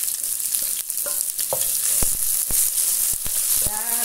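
Bacon frying in a Philco Redstone PPE04FS electric pot, a steady bright sizzle with scattered pops and a few scraping stirs, close and alone without talk.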